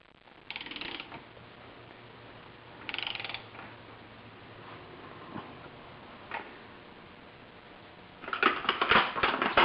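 A socket and ratchet drive a fuel line fitting into a 1976 Mazda RX-5 Cosmo fuel system, producing short bursts of rapid ratcheting clicks separated by quiet stretches, with a longer, louder burst at the end.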